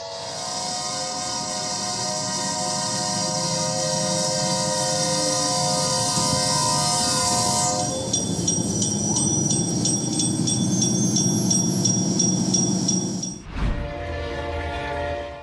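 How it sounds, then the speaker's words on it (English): An oncoming train blasts its horn in long, loud sustained blares, with steady rail rumble underneath. The horn cuts off partway through, leaving rolling train noise and a high ringing tone, then a sudden heavy thump and crash near the end. "It's hard to believe the driver didn't notice the oncoming train or hear the horn"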